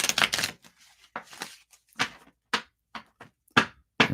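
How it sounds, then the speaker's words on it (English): Deck of playing cards being shuffled and handled, loud close riffles and flicks in short separate bursts with brief silences between, no voices. "I'm going to shuffle for Jennifer."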